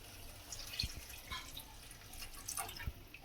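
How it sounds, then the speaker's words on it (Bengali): A little water goes into a pan of chilli fish sauce, heard as quiet, scattered drips and trickles over a low background hum. "এবার এতে দিয়ে দেব সামান্য জল।"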